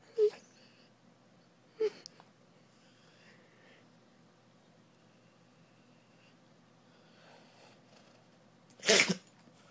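Three sharp, isolated sneezes in a quiet room, the last the loudest, separated by long stretches of near silence.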